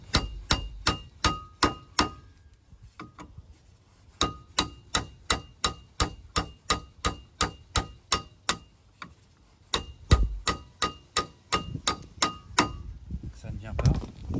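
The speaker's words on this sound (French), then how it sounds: "il vous faut utiliser un tournevis à frapper, vous mettez en position d'esserrage, vous faites un test" Repeated hammer blows on an impact screwdriver loosening a seized brake disc retaining screw on a Peugeot 206, sharp metallic strikes in steady bursts of many hits separated by short pauses, close and loud.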